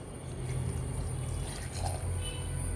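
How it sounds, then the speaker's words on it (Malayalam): Hot water trickles into a simmering pot of mango curry for an Onam sadya, a soft, steady pouring sound heard up close against a low background hum. "ചൂടുള്ള വെള്ളം ഒഴിച്ചു കൊടുക്കാം."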